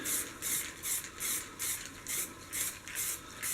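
An airsoft replica is spray painted with a can in short, gentle bursts, giving about nine evenly spaced, close hissing puffs with brief pauses between them.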